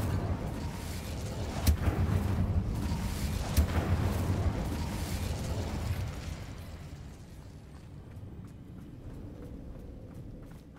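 Incendio fire spells cast during combat in Hogwarts Legacy, giving loud whooshing, crackling bursts with two sharp pops early on, then a rumbling blaze that fades to a quieter roar.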